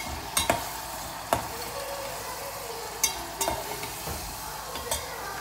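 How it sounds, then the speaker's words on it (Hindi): Keema, about half a kilo of minced meat with a large onion, browns in a frying pan with a steady low sizzle, broken by several sharp scrapes and clacks of a spatula stirring it, close and fairly quiet with no talk. "डाल दिया हमने, कीमा हमारा ब्राउन हो रहा है"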